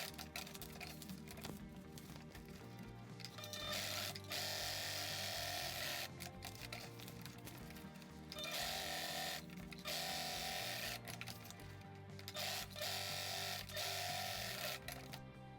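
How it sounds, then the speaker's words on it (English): A sewing machine runs in steady bursts, stitching down a folded seam on the side of a fabric strap made for a concrete doorstop; the motor hum starts and stops several times, close and fairly loud, with no talking. "I'm going to fold my previous seam to the sides that go up and sew on top"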